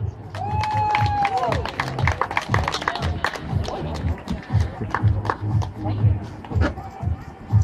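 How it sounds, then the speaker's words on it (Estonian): An outdoor crowd claps for the winners of a children's running race at an award ceremony by Pühajärve, with a burst of applause that continues steadily under someone talking over a loudspeaker. "Palun veel aplaus."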